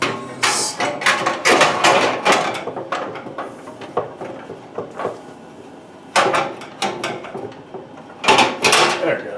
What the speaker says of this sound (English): a few trays that appear just to slide in and lock into place